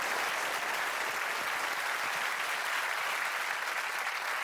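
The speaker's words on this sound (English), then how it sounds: "Can we please give a round of applause for our guest expert," A studio audience claps for a guest expert, a thick, even wall of applause that holds at the same loudness from start to finish with no voices over it.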